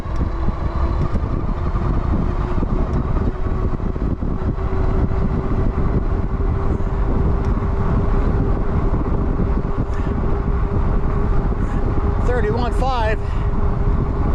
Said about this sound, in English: I hear the motor winding a little bit and the wind in my ears